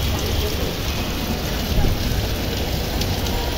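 Heavy rain that has been falling since early morning pours down in a steady, loud, broadband hiss, continuous and close, with a faint wind-like rush underneath and no clear voices.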